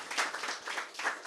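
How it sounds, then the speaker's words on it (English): Scattered applause from an audience at a book launch event, a few people clapping quietly with loose rhythm, faint and distant, lasting just over a second. "You can give a round of applause."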